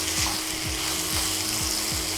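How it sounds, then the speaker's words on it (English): Pork browning in a hot pan for sweet sticky pork, a steady loud sizzle with a few periodic stir-like sweeps, no voices. "So we allow our pork to become brown"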